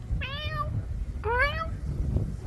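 A cat meows twice in quick succession, two clear drawn-out calls close by over a low background rumble.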